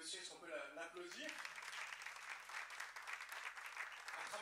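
A church congregation applauds to welcome a first-time visitor during a French-language service, steady clapping filling the room for several seconds, with a voice speaking over it at the start.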